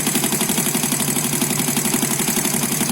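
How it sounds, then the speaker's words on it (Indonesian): A car engine idles steadily during a charging system test with a multimeter, giving a loud, close, continuous mechanical hum with a fine rapid pulsing throughout and no talking. "Kemudian kita nyalakan engine. Oke, engine sudah menyala."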